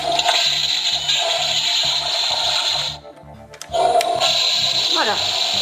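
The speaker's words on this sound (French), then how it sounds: "Alors regardez, vous avez la chasse d'eau." A toy toilet plays a recorded flush sound from a small built-in speaker, a loud rushing gush that drops briefly before resuming, with people talking over it.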